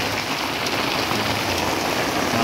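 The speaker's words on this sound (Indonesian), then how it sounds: "Hujan deras guys. Sayangnya hujan nih, hujan." Heavy rain pours at a fishing platform at Tanjung Kait, Tangerang, making a dense, steady, loud hiss with no voices over it.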